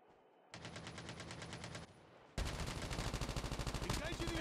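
Rapid automatic gunfire in a Call of Duty Mobile battle royale match, with dense repeated bursts. A short pause follows, then a louder, sustained volley up close.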